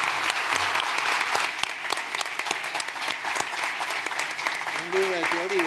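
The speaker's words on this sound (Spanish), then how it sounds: "Así que un aplauso para despedirlos." An audience at an architecture school gives a farewell round of applause to a professor, steady clapping throughout with a few voices murmuring beneath and a brief sound near the end.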